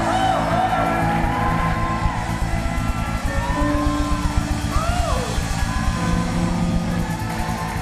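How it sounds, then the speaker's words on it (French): A church congregation at a praise and worship service shouts and whoops with joy, loud crowd cries layered over rhythmic worship music with a steady pulsing beat throughout. "Poussons des cris de joie dans sa maison."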